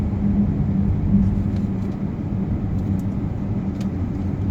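Inside a 2010 Audi A8 4.2 V8 quattro pulling gently at low revs on a highway, a steady muffled engine and road rumble hums without pause.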